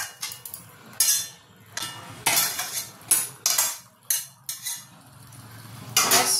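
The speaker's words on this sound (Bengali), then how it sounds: "এগুলোকে দিয়ে ভালো করে একটু নাড়িয়ে আর ঢাকা দিয়ে রেখে দেবো" Potatoes are stirred with a spoonful of ghee in a metal pot for a coconut potato curry, giving repeated scraping clinks of a spoon against the pot in bursts, then a lid clatters on to cover it.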